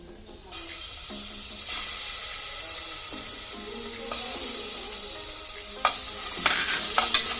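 Ground paste for a jackfruit curry sautéing in hot coconut oil, a steady bright sizzle with intermittent scraping and stirring strokes of a spoon against the pan, growing a bit louder toward the end.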